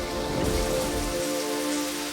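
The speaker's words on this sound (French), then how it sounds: "Mais soudain, le ciel se fâche à nouveau et l'expérience peut reprendre." Heavy rain pours down steadily throughout a MythBusters outdoor experiment, a dense continuous hiss of drops on surfaces with no one speaking.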